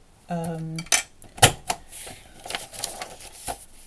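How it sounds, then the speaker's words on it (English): Several sharp clicks and clacks as an envelope punch board snaps notches through paper, with a short tonal ring at the start and light rustling between. "I will use my envelope punch board just to make those"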